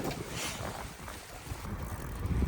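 Wind buffets the microphone of a moving cyclist in rumbling low gusts, rising and falling and growing stronger toward the end.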